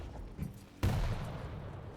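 Rocket fire during a Quake match, with a dull thump from a launcher followed at once by a loud, sustained blast that lingers and rumbles, set over steady background game noise.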